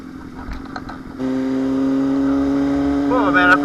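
A Honda CBR600RR sport motorcycle engine idles loudly and close by with a steady rumble, and revs up briefly near the end.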